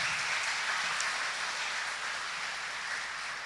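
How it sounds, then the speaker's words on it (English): Students applaud at an engineering college induction programme, giving a steady, dense wash of many hands clapping from a large audience, heard at a distance and fairly soft, with no talking. "Big round of applause to you as well."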